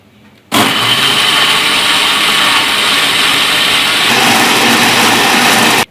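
A kitchen blender grinding mango for homemade ice cream starts abruptly and runs as a loud, steady, close whirring roar for about five seconds, with no talking.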